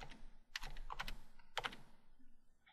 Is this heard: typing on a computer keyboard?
yes